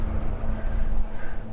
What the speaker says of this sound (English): It's really, really windy down here